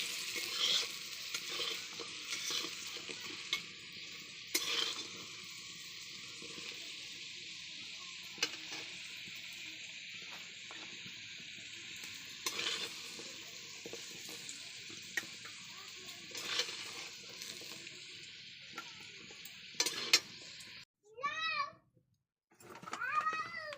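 Potatoes fry and sizzle in a pan under steady stirring and scraping, a continuous hiss with clatters of the utensil, and a voice speaks briefly near the end.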